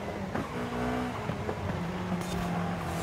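Bubble car engine in the racing game Forza Horizon 5, a steady buzzing whine that shifts in pitch as it revs, heard under faint game ambience at moderate level.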